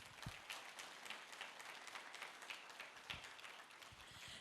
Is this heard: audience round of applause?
yes